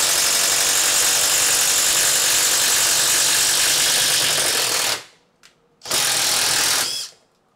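A Makita DTD17 impact driver in wood-screw mode boring into wood with a 15 mm bit, a loud continuous whirring hammer for about five seconds, then a brief pause and a second short burst before stopping.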